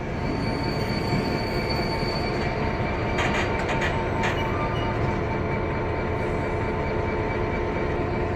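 A train pulls out of Lewisham station with a continuous rolling rumble and brief high wheel squeals near the middle, heard at fairly close range with no one talking.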